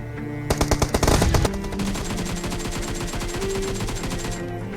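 Automatic gunfire in the video game PUBG opens with a rapid burst of sharp shots. A steady stream of game sound follows. There is no speech.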